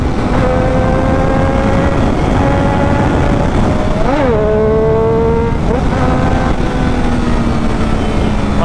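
A Triumph Daytona 675R sport bike revs hard and loud under acceleration, its engine note climbing and dropping sharply with quick clutchless shifts around the midpoint before pulling up again, steady wind rush underneath.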